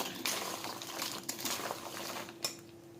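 Fried diamond-cut pastries being stirred into hot sugar syrup in a pot, giving soft, steady scraping and clinking with a few sharper knocks, close and fairly quiet.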